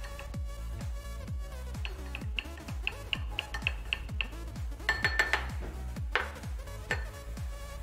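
A teaspoon stirs a lemon juice remedy in a small glass, clinking rhythmically against the sides in quick, steady strokes, close and clear with no talking.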